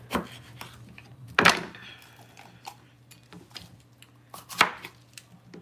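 A knife chops a yellow onion for a salad on a cutting board in a home kitchen, with a few sharp, sparse cuts over faint background hum and small rustles.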